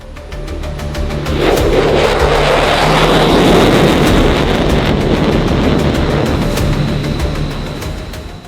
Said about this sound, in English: This is the F-22 Raptor, the aircraft that redefined air dominance.